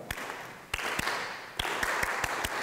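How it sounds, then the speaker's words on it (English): A lecture audience claps out the rhythm of a melody they just sang, a loose group of sharp, unison claps falling in an irregular pattern over a hushed hall. "I want you to clap the rhythm that you just sang, but don't sing it."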